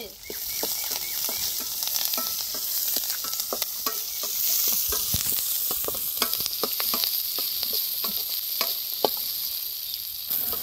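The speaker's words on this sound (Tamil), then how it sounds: "வெங்காயம், பச்சை மிளகாய், கருவேப்பிலை, பூண்டு எல்லாத்தையும் சேர்த்துப்போம்" Onions, green chillies, curry leaves and garlic sautéing in a pan after whole spices, in a village kitchen. Loud, steady sizzling runs throughout with frequent rapid scraping strokes of a spatula, close and without voices.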